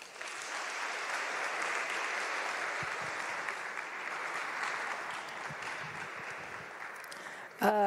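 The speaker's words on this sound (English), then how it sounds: "Let's clap hands once again for the UN Resident Coordinator." A seated audience at the Eswatini National Science Month launch applauds the UN Resident Coordinator, a steady dense wash of clapping that holds for several seconds before a voice cuts in at the end.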